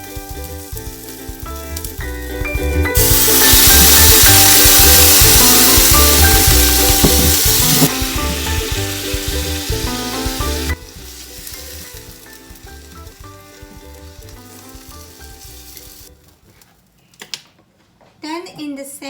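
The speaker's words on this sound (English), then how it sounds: "When the fish turns nicely brown, then you turn it around, then grill 2 more minutes." Yellowtail fish fillets frying in a pan for teriyaki give a loud, steady sizzle that swells for several seconds, then settles to a softer crackle, with a voice talking now and then.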